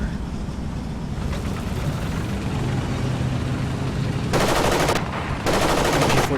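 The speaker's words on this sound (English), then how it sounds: "MG42 sounds different with this gun." Bursts of MG42 machine-gun fire in a modded video game rip out as rapid rattling volleys, loud and close over a dense rumbling battle backdrop, with two sharp bursts near the end.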